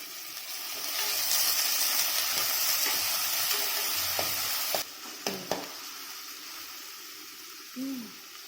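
Finely chopped onion sautéing in a pan gives a steady, close sizzling hiss that drops lower partway through, with a few soft utensil knocks and stirring sounds near the end.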